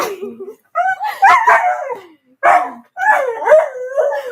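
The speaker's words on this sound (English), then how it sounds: "The dog's saying no." A dog howls and barks in close, loud bursts of yowling, drawn-out vocalizations separated by short silences, with its pitch rising and wavering through each outburst.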